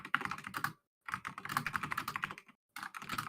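Rapid, continuous clicking of a computer keyboard being typed on in quick bursts, broken by two short pauses, fairly close and with no voices over it.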